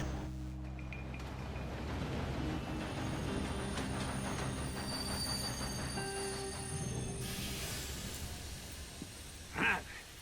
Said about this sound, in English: we're taking the train then, okay.